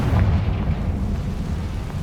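A Confringo spell blast in Hogwarts Legacy, a deep, rumbling explosion that stays loud and steady throughout, with low booming energy and no voices.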